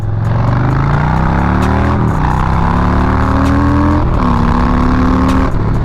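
A Harley-Davidson Low Rider S roaring loudly through a roundabout, its V-twin engine droning close with pitch rising through gears, a dip and shift around two and four seconds, then pulling again.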